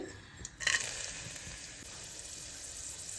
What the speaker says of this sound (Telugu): నూనె వేడెక్కాక మటన్ వేసాను దీంట్లో